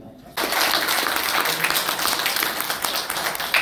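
A crowd bursts into steady, dense applause at a documentary screening in a Jongno church hall, starting abruptly and holding at an even, full level to the end.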